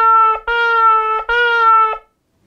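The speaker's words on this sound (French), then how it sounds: "Les shvarim, ça veut dire les trois sons." A shofar sounds the shevarim call, three broken blasts in quick succession with a bright, brassy horn tone, loud and close, followed by silence.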